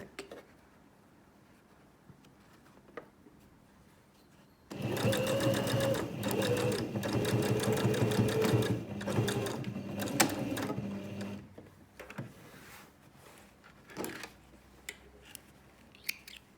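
Domestic sewing machine stitching a zip into a lined fabric make-up pouch: a steady, fast mechanical whirr of needle strokes running for about four seconds, framed by quieter handling clicks, rustles and a few taps before and after.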